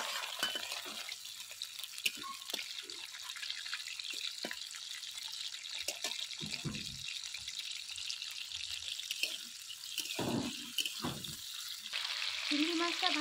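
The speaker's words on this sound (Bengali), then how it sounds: "এবার চিংড়ি মাছটা ভেজে নেব।" Shrimp frying in hot oil, with a steady hiss and crackle and scattered sharper pops and spatters near the pan. No one talks.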